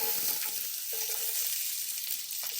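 Chopped onions dropped into hot oil in a pan for a cheesy sausage Buldak noodle dish, giving a steady, fairly loud sizzle and crackle throughout with no talking.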